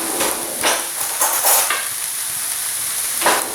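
Food sautéing in a pan while a beef curry is being made: a bright, steady sizzle close by, with a few louder bursts of stirring and scraping over the hiss.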